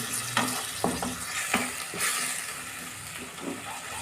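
Masala spices frying with a splash of water for chicken masala leg, sizzling under repeated stirring scrapes of a spoon in the pan, close and steady.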